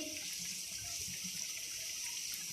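Pumpkin koftas fry in hot oil with a steady, soft, even sizzle that continues without a break. No one speaks.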